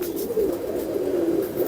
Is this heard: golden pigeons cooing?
yes